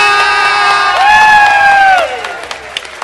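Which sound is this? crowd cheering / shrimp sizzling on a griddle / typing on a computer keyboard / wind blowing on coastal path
crowd cheering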